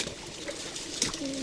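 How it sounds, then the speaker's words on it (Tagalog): Birds calling beside a creek, a brief soft cooing call and a few faint chirps heard over the gentle background wash of flowing water. "mayroon pang huni ng mga ibon"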